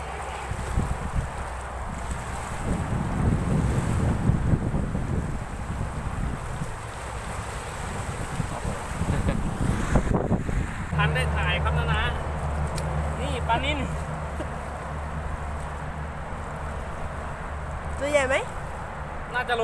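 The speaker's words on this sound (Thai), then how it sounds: "วันนี้ลมแรงมากครับ" Strong wind buffets the microphone at the Lam Takhong dam reservoir during shore fishing, a heavy, continuous low rumble with washing water beneath it, and someone talks over it at times.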